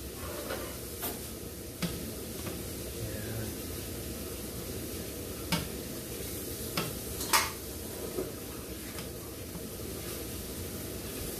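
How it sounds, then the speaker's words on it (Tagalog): Tortillas cooking in a pan for pulled pork quesadillas, giving a steady low sizzle and stir-like rustle throughout, with a few brief clicks and taps of the pan or utensil standing out. "At the same time, maluluto ng konti yung tortillas natin"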